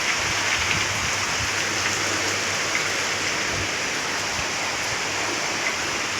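Steady, heavy rain pours down outdoors after a long hot spell, a dense continuous hiss and patter close by with no voices over it.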